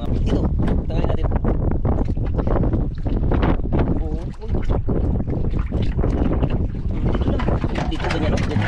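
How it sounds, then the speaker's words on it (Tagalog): Strong wind blows at sea behind an island, buffeting the microphone in loud, rough gusts with splashing water, while people talk intermittently underneath. "Talagang mahangin pa rin talaga idol"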